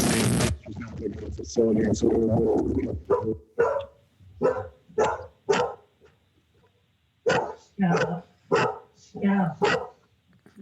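A dog barks repeatedly during an online port commission meeting, a burst of loud barking under talk followed by a string of separate sharp barks spaced out over several seconds.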